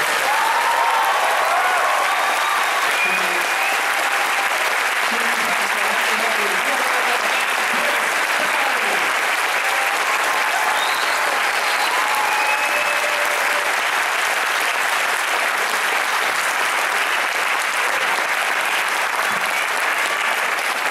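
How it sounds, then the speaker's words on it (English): A theatre crowd at MCM Manchester Comic Con 2014 gives a long, loud, sustained round of applause after the Red Door panel, with scattered voices and cheers under the clapping. "Please give a massive round of applause"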